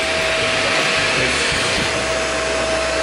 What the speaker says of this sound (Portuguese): Melhor pegar o aspirador, não?